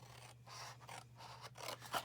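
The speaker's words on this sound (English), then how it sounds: "Just cut up the score lines." Scissors cut along the score lines of a paper treat box in a short run of close, soft rasping snips, with no speech.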